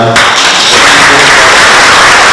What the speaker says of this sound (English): We want to give them a big round of applause for them.